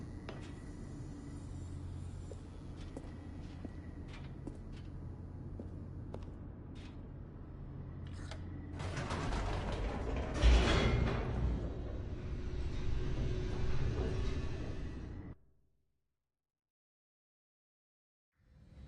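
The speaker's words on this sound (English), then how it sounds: "The elevator raced downward, plummeting towards an unknown fate" A descending elevator in The Stanley Parable gives a low, steady rumble that swells louder and rougher partway through, then cuts off abruptly into silence.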